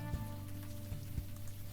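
Steady rain falls in a city street scene from the video game Unavowed, a soft continuous patter with a low music drone and a few dull thumps, no voices.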